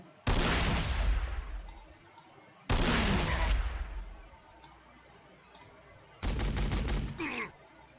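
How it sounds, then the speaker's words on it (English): A big gun in Warhammer 40,000: Sanctus Reach fires three heavy booming shots, each a sharp loud blast trailing off, the last followed by a rapid clattering burst. "So the big gun. Take a few pot shots back here."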